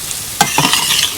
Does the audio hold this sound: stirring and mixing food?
yes